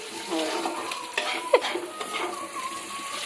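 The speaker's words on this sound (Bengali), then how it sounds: "হালকা করে চিকেনটা রান্না হচ্ছে" Chicken cooking with spices in a pan, a soft sizzle with stirring and a few clinks of utensils against the pan. Quiet talk is heard in the background.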